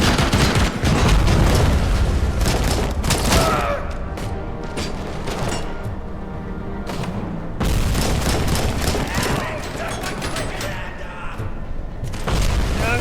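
Gunfire and heavy booms from the video game Robocop Rogue City, loud and continuous across the span in a dense barrage of shots and thuds, with occasional voice in the mix.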